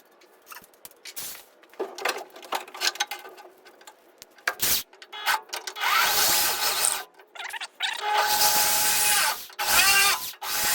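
A drill bores a hole in the sheet-metal hood of a 1973 Chevrolet Opala. Scattered taps and rubbing scrapes build into loud, grinding drilling bursts that run several seconds up close, with no talking.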